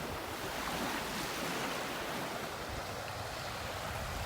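Moderately rough ocean surf breaking on a beach in North Naples, Florida, a continuous loud roar of waves with wind noise on the microphone, steady throughout and without voices.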